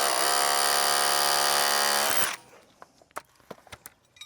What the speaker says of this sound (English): If you don't have an air hammer, SDS on hammer with an old bit that you cut off is fantastic on these old fittings like this.